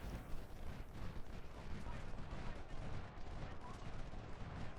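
Artillery fire in the Civil War strategy game Ultimate General: Civil War, Chickamauga day two, a dense continuous rumble of cannon and gunfire booming over one another with no gaps, steady and loud throughout.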